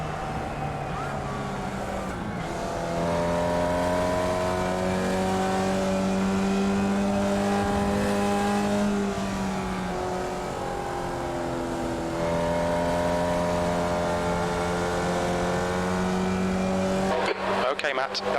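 A race car engine in a racing video game roars steadily at high revs, its pitch rising and holding as it accelerates, loud and close, with a brief burst of noise at the end.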